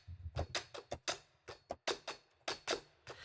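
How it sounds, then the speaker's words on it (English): Sticks and hammers from the Midiwood Black Lotus plugin in Logic Pro all play at once in a pattern. The sharp, dry hits crack close together and sound almost like handclaps, with short gaps between bursts. "It almost sounds like a clap."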